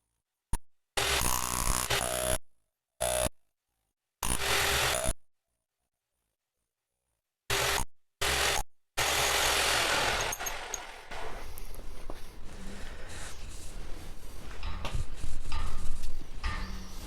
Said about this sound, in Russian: в то время, пока перфоратор работает, надавливать на коронку и пытаться ее откручивать